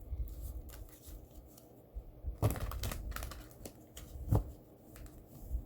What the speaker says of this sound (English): We're going to shuffle 3 times for pile number 3.